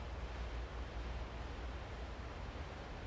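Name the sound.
sea waves beside an aircraft carrier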